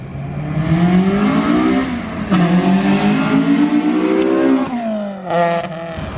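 Honda Civic EG hatchback engine revving hard and climbing in pitch into VTEC, loud and close, with a shift and renewed climb, then a brief rise near the end.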